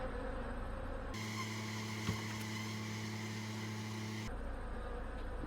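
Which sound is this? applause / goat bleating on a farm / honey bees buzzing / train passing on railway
honey bees buzzing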